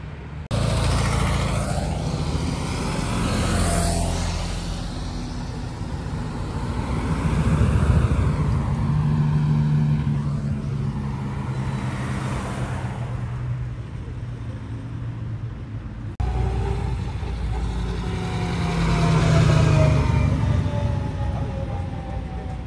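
Classic Bugatti car arriving at a vintage car rally, engine rumbling as it rolls past with rising and falling swells, amid outdoor traffic noise and a second passing engine later.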